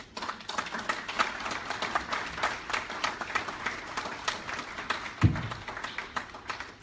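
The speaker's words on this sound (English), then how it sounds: "Let's keep clapping as she comes." Continuous, moderately loud audience applause at a Nigerian nurses' charity event in the UK as a speaker walks up, with uneven bursts of clapping and a brief thump near the end.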